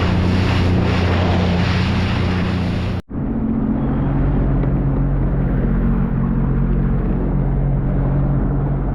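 A Sea-Doo personal watercraft rides over choppy water, a loud roar of engine, spray and wind buffeting the microphone, cut by a sudden brief drop near the middle before the steady rush of water and motor resumes.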